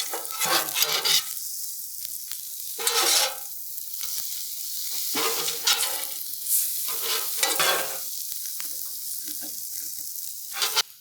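Chicken fried rice sizzles and crackles on a Blackstone griddle while a metal scoop scrapes and tosses it in repeated bursts, loud hissing swelling and fading with each stir.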